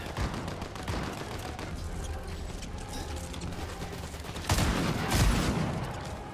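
Rapid gunfire in the video game Fortnite crackles in a dense stream of shots, growing louder with heavier bursts near the end, no voices.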